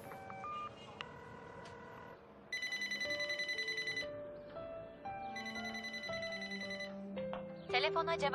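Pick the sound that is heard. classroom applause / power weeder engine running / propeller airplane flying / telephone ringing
telephone ringing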